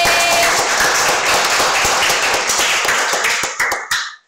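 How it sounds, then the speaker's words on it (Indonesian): Clapping during a livestream, a dense patter of hands that thins into a few separate claps before stopping, loud and close with no talk over it. "Oke, tepuk tangan buat Bagi."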